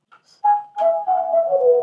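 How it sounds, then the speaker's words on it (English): A clear, tonal whistle is used in a music production, rising into a sustained, wavering melodic line after a few short chirps, heard alone and close. "Then came the whistle, which was supposed to back up a background vocal I used in the instrumentation"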